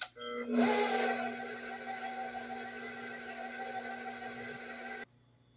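An electric mixer runs on its lowest speed through pound cake batter for a maple pecan pound cake, giving a steady, even whir that starts abruptly, holds for about four and a half seconds, then cuts off.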